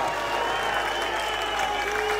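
Crowd clapping steadily at an outdoor political rally in Albano Laziale, Italy, a dense continuous wash of applause with faint voices mixed in.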